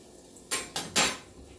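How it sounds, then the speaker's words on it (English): Smoked sausages drop into a pot with hot olive oil, giving three quick metallic clatters in close succession, near and fairly loud, with no talk. "And then we are going to drop us some sausages. And we're going to brown them on both sides."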